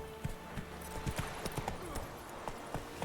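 Horse hooves clip-clopping at a steady walking gait while riding in The Witcher 3 video game, a regular series of soft thuds with faint background ambience.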